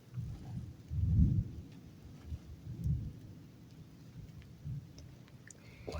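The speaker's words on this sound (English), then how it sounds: "It sound like that. Weird thunders." Distant thunder rolls in low and muffled as a thunderstorm begins, with a couple of heavier rumbling swells over a steady background of wind and light rain.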